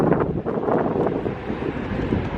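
Wind blowing steadily through a deserted open-air market hall area in Riga, a continuous broadband rush with microphone buffeting, loud and close throughout with no voices.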